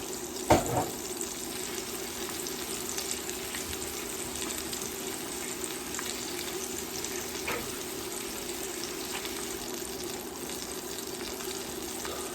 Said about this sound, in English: Give it a good fry up